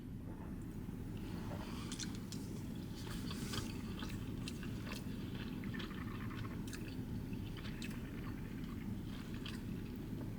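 Quiet, close chewing of spicy Bicol Express, a Filipino pork dish with chilies, heard as soft wet squishes and small bites repeating steadily over a low room hum, with no talking.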